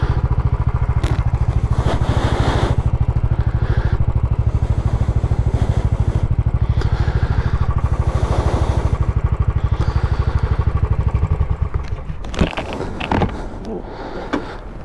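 A Royal Enfield Classic 350 motorcycle engine thumps loudly in a steady rapid beat with mechanical clatter, then cuts out near the end, leaving a few quieter knocks.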